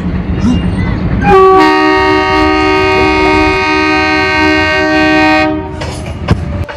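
A train rumbles past close by as its horn blasts one long sustained tone for about four seconds, then cuts off, leaving the fading clatter of the passing cars.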